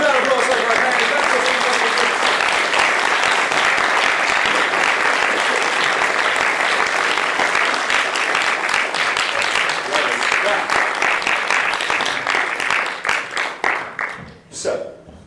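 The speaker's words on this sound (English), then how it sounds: "please huge round of applause" Sustained loud applause from a large audience at the AdventureX 2017 games convention, steady clapping that fades out near the end.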